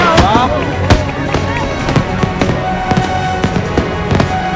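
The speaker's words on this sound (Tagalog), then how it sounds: "Tradisyon sa Bukawi ang pagsindi ng mga paputok sa pampang habang dumaraan ang pagoda para mailawan" Firecrackers crackle and pop in a rapid irregular string on a riverbank during a pagoda procession, loud and sharp, over a busy crowd with voices and shouting in the background.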